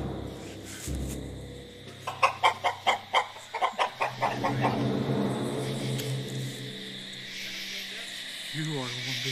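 A large rooster gives a rhythmic run of about eight loud, close clucks in a quick series, set over tense low background sound in an action horror comedy scene, with a brief voice near the end.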